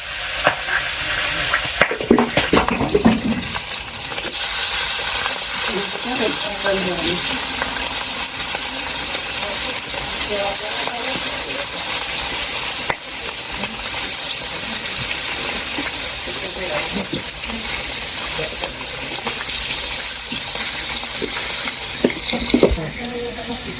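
Fish frying in a pan gives off a steady, continuous sizzle for most of the clip, with occasional clinks and a faint voice in the background.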